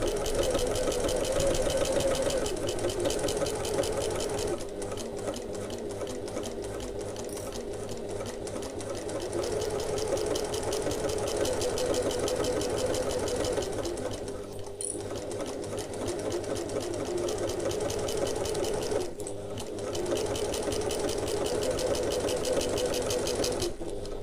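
A sewing machine runs steadily while stitching a handbag panel at a quarter-inch seam allowance, its motor whirring near and loud with brief slowdowns and pauses around the fifth, fifteenth and nineteenth seconds.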